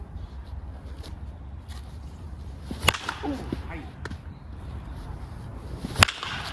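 A hickory wood baseball bat strikes a ball twice, each a single sharp crack several seconds apart, loud against an outdoor background with faint movement between hits.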